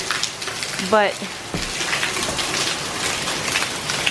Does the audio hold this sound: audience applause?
no